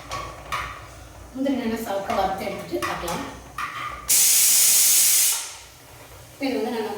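A pressure cooker releasing steam in a kitchen while making wheat rava sweet pongal, a loud sustained hiss lasting about a second and fading out, amid clinking utensils and someone speaking.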